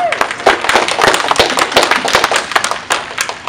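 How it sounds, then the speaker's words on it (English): Audience applause at a cosplay convention panel, loud sharp individual claps from a modest crowd close by, irregular and crisp, with a cheer near the start. "All right, round of applause."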